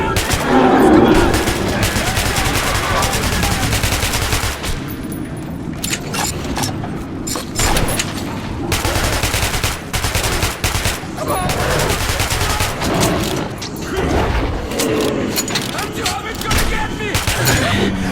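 Dense, loud gunfire in the Metro Redux video game, with rapid bursts and shots running nearly without pause amid game effects, while panicked voices shout over the shooting.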